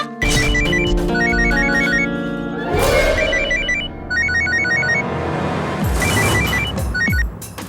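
A telephone rings repeatedly in bursts of electronic ringing tones, loud and close, over a dramatic music score with a brief sweep in the middle.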